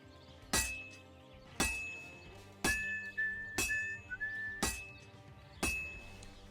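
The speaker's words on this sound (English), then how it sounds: "we hit the anvil and we go to work" Sword hammered on an anvil during blacksmithing in Kingdom Come Deliverance 2: six loud, evenly spaced metallic clanks about a second apart. Each rings out, and a thin whistling tone sounds over several strikes.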